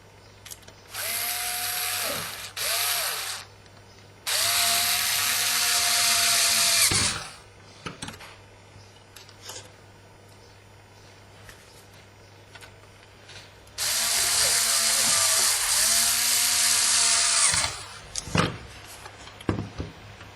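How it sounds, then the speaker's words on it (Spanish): A power screwdriver drives screws into the sides of a PS2 hard drive case, giving three sustained whirring bursts a few seconds each, separated by quiet gaps with small handling clicks and knocks. "Colocamos de nuevo los 4 tornillos en los laterales."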